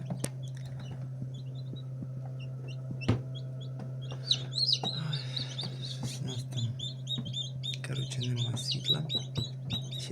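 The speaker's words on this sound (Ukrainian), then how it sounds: "трошки тут є інкубаторі курчаток" Newly hatched chicks peep in high, rapid chirps inside an incubator, starting sparse and growing denser toward the end, with a low steady hum and occasional sharp knocks underneath.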